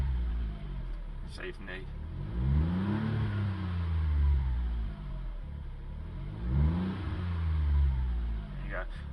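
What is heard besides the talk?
Smart ForTwo 450 turbo engine revving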